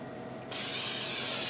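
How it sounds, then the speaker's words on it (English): A sudden broad hiss of canola cooking spray onto a stoneware baking pan starts partway through and keeps going steadily, loud and close. "let me spray that with a little bit of canola spray"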